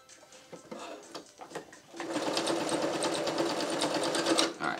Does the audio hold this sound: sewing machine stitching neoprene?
yes